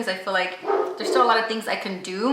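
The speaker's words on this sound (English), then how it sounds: "that's my neighbor's dog" A neighbor's dog barks and yips in the background while someone talks continuously over it, the barking partly buried beneath his voice.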